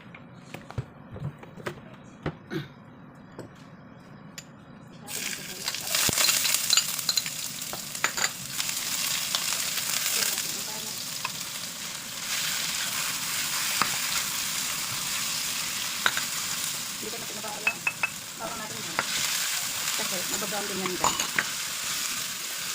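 Meat frying in oil in a hot pan for pancit, starting with sparse taps and clicks, then a loud, steady broadband sizzle that continues to the end with occasional sharp pops and utensil clicks.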